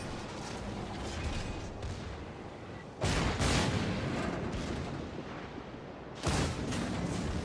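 The battleship Warspite fires its main guns in World of Warships: two loud booming salvos a few seconds apart, each a sharp blast trailing into rumble, over steady engine and sea noise.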